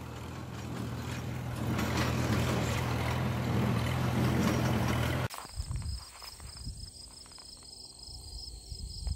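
A tractor engine drones steadily while brush hogging on a homestead, then cuts out abruptly about halfway, leaving quieter outdoor noise with insects.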